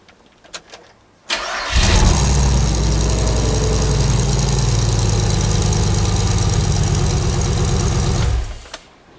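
An LS V8 swapped into a Celica GT-S cranks briefly and catches, then runs at a loud, steady, rumbling idle for several seconds before shutting off.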